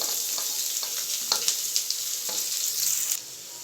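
Onion and green chillies fry in hot oil for mango pulusu, a bright constant sizzle punctuated by a few stirring scrapes, dropping off sharply near the end.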